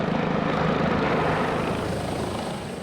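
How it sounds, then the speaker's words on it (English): A yellow helicopter flying overhead, its rotor thudding in a steady low pulse under a broad engine roar, loud and continuous and easing off slightly toward the end. "I've just seen in the distance this helicopter"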